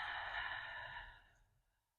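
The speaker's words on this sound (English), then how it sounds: "Pausing briefly at the top and then exhaling." A slow, deep exhale during a guided breathing exercise: one long breathy rush of air, close and soft, fading out over about two seconds with no talking.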